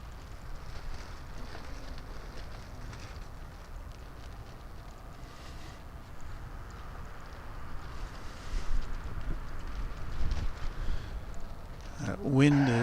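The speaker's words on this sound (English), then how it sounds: "That wind is blowing stiffly from the north-northeast right now." A stiff north-northeast wind buffets the microphone at a large airport, a steady low rumbling roar throughout with gusts swelling toward the end, while someone talks over it.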